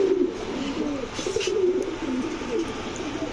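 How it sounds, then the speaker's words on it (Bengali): Racing pigeons coo steadily in a low, rolling rhythm, close and continuous throughout, with no talking. "এগুলা হচ্ছে গত বছর ইনটেক 35 কিলো খেলা কবুতর, এই হচ্ছে নর"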